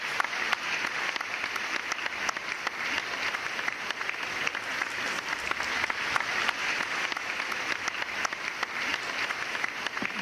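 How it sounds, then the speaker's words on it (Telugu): Sustained audience applause fills a Telugu poetry recital hall at a kavi sammelanam, dense steady clapping from many hands throughout, fairly close and even in level, with no talk over it. "ఒకసారి చప్పట్లు కొట్టండి మరొకసారి"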